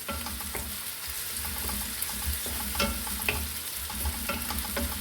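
Pirandai with curry leaves and garlic sautéing in a pan, a steady close sizzle with repeated scraping stirs and clinks throughout, no voices.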